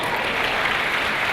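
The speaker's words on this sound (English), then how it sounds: "Round of applause." Steady, dense applause from the audience at a Sunday fan panel in Adelaide, loud and continuous for the whole moment with no talking.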